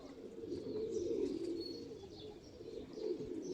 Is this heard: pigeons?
yes